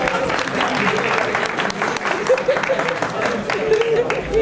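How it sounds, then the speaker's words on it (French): Audience applause at a Malian students' cultural day event, steady clapping from a crowd filling the clip with a voice faintly heard over it. "Applaudissez pour elle."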